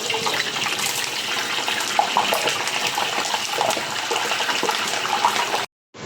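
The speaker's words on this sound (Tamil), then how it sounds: "காலிஃப்ளவர் நல்லா டீப் ஃப்ரை ஆகிடுச்சு" Cauliflower pieces deep frying in hot oil for chicken maqluba give a loud, steady broadband sizzle that runs unbroken for several seconds, then cuts out abruptly near the end.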